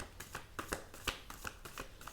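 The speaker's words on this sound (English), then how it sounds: "going to shuffle all 3 cards and get them out before I speak" Three tarot-style oracle cards are shuffled by hand, a quiet, close run of rapid papery riffles and soft slaps with a rhythmic flutter and no voice.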